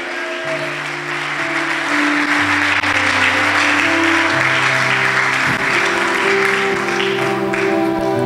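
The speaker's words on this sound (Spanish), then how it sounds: "Dale un aplauso a Dios." A church congregation applauds steadily during a Spanish-language sermon, a dense, loud wash of clapping that lasts the whole stretch, with sustained musical tones humming underneath.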